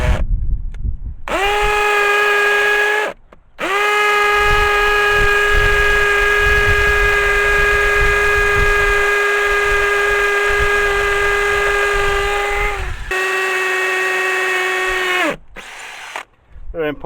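A power drill bores holes in a stable wall while fitting an outside tap, a loud near whining motor held in long steady runs with brief stops between bursts.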